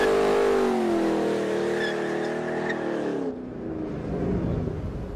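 A 2013 Ford Shelby GT500 spins its rear tires to heat them: loud sustained engine revving with a rising, falling tone, then a drop into rougher tire noise, close by and alone.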